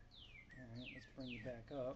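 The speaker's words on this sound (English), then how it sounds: "I hear the birds chirping like crazy today" Several bright descending bird chirps repeat quickly, close and clear, while a person speaks briefly underneath.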